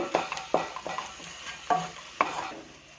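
Masala for pudina mint rice being sautéed in a pan: a soft, steady sizzle broken by about five sharp spatula scrapes and knocks at uneven intervals, close by and without talk.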